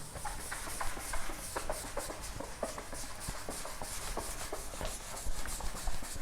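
Dry scrubbing of a duster rubbing out writing on a board, a steady run of short rasping strokes at close range with no talk.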